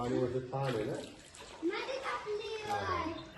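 Water splashing and sloshing as children swim in a river, talking and calling out over it, close by, in bursts throughout.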